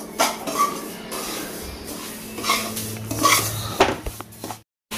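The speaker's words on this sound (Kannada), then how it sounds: "ಒಂದ್ ಸ್ವಲ್ಪ ಹೊಡ್ಬಿಡ್ತೀನಿ ರವೆನ" Semolina (rava) roasting in a pan while it is stirred, heard as close, irregular metallic scraping and clinking of a utensil against the pan with short louder bursts, and no talking.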